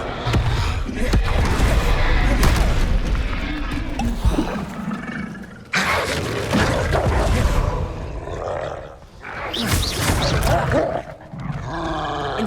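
Spell blasts and magical impacts from Hogwarts Legacy gameplay on Xbox Series X, with the fiery Confringo explosion among them, loud and dense, come in several roaring bursts over continuous game noise and effects.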